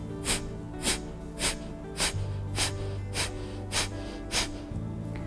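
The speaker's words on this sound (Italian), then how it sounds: "Il nostro risultato finale sarà una respirazione dove l'attenzione è tutta quanta sull'espirazione." Forceful yoga exhalations, as in a warming breath practice, come as eight sharp, evenly spaced bursts of air through the nose, close and distinct over a quiet background with a soft sustained tone.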